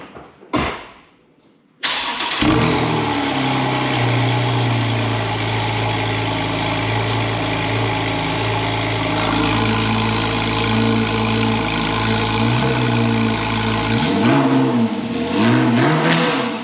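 A Porsche 911 991.1 Carrera 2S coupe with a 3.8-litre flat-six of just over 400 horsepower and an Akrapovic titanium slip-on exhaust cranks, fires into a loud close bark, settles into a burbling idle, then gives a couple of blips near the end.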